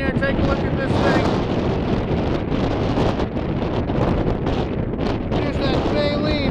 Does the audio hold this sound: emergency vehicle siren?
no